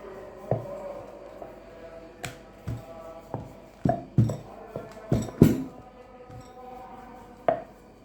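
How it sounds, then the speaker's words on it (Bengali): A rolling pin rolling out nimki dough on a board: irregular close knocks, clacks and thuds, some in quick pairs, scattered across eight seconds over a quiet background with no talking. "এখন আমি রুটিটা বেলে নিব।"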